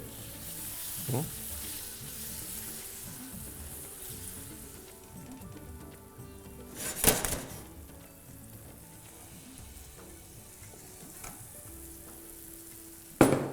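Yogurt stirred into frying masala for matar paneer gives a faint, steady low sizzle with occasional soft scrapes, a louder clatter midway and a sharp knock at the very end.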